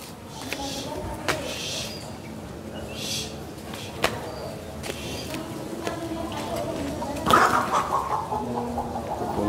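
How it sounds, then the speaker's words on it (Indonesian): Chickens cluck near an Indonesian prayer room, a faint, intermittent fowl call under nearby outdoor noise, sharp knocks and clatter, with a brief louder burst toward the end. "Waduh, ada ayam."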